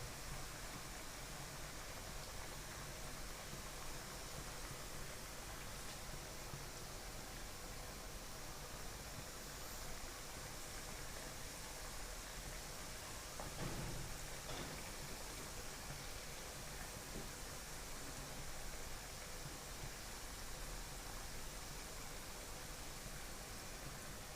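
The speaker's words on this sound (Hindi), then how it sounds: "ये मैक्सिमम जो है 4 से 5 मिनट के अंदर ये फ्राई हो जाएंगे" Potato finger chips deep-fry in oil, giving a dense, constant crackling hiss like steady rain that continues evenly throughout, close and without talk.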